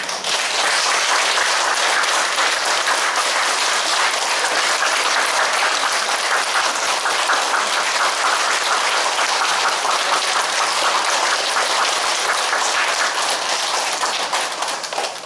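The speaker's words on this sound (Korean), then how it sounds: "큰 박수." Loud, dense applause from a church congregation during a flower-bouquet presentation, steady clapping filling the whole stretch with no pause and no talk over it.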